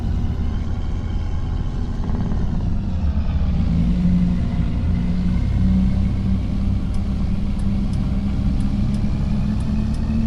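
A video game car engine drone during driving in a Montana whiskey roleplay, a continuous close rumble holding steady with a slight rise in load partway through and no talking.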